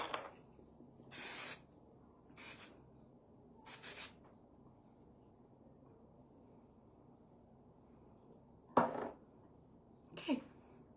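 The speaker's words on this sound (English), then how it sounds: "and some shine spray" Hair shine spray hisses from an aerosol can in several short bursts while styling before a party, with quiet gaps between puffs and a couple of sharper handling clicks near the end.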